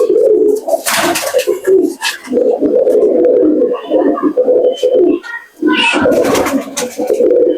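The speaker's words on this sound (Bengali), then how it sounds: "বাহ, সুন্দর পায়রা।" Old-generation Madrasi pigeons coo close by in repeated deep, throaty rolls that overlap and pause, with sharp wing flutters and scuffles between the calls.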